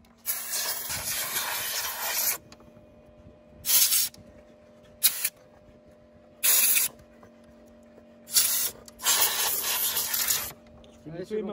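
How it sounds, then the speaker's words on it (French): Compressed air blow gun fed by a workshop compressor, used to clean a car (an Alfa Romeo) after spark plug and EGR valve work: loud sharp hissing blasts in bursts of varying length, separated by pauses with a low steady hum. "tu vas aller m'allumer le compresseur"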